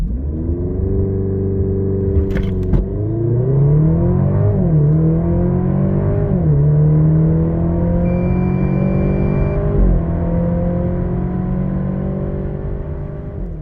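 A Maserati Grecale GT with a 2.0 turbo engine accelerating hard to 100 km/h, the engine rising through several gears with clear shift dips, loud and close from inside the cabin with no talking.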